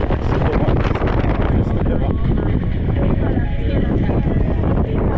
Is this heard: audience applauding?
no